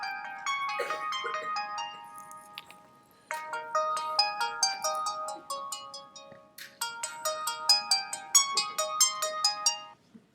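Ringtone of a small prepaid TracFone, a bright electronic melody of tinkling chime notes playing in repeated phrases for about ten seconds, clear and fairly close in a lecture room, with no talking over it.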